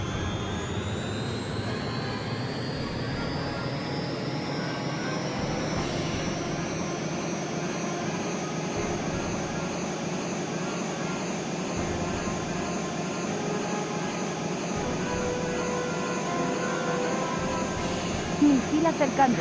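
Harrier jet engine roaring steadily in jet mode in a retro PlayStation flight game, a continuous high-pitched whine over a broad rushing roar that holds for the whole stretch, with in-game voice announcements over it.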